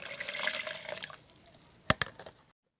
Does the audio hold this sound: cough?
no